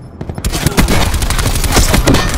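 A loud, dense fusillade of automatic gunfire in a Terminator video game, rapid shots hammering continuously after a brief quiet start, with no talk.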